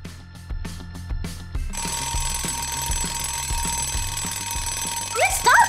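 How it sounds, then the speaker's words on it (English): An alarm clock rings in rapid repeated bursts, then a continuous electronic tone follows with faint tapping and a short squeaky voice-like sound near the end. "Stop ringing!"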